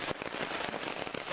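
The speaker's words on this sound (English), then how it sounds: "Yeah, it is pouring down rain." Heavy rain pours down on a campsite, a dense, steady hiss of drops with scattered sharper patters, close and continuous with no voices.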